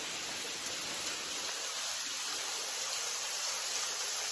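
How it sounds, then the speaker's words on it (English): A waterfall pours down the middle of a rocky cul-de-sac, heard as a steady, even wash of rushing water that stays faint and constant throughout. "with the waterfall flowing right down the middle."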